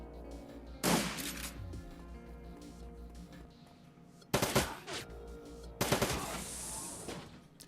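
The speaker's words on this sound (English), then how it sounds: "The gunfire dies down and the smoke clears." Gunfire sound effect in a Shadowrun tabletop roleplaying session: three sharp, loud bursts of shots separated by quieter stretches, each burst decaying with a ringing tail.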